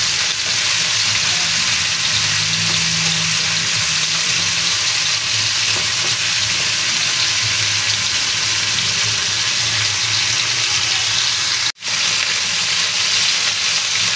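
Chicken frying golden brown in a pan, a dense, loud, continuous sizzle and crackle of hot oil throughout, with a brief dropout near the end.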